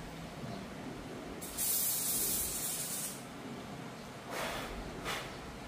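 Short bursts of gun cleaner sprayed onto a pistol, two hissing aerosol blasts, the first longer, close and fairly crisp over quiet background.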